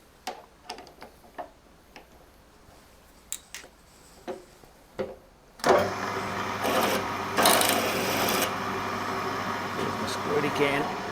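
A few scattered clicks and taps give way to the steady, loud whir of a power drill running continuously up close, drilling metal while repairing a bench vice.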